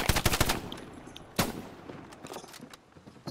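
Shotgun fire in the World War II shooter Hell Let Loose: a quick cluster of sharp blasts opens the stretch, a single heavy boom follows a moment later, and scattered fainter shots and clatter trail off afterward.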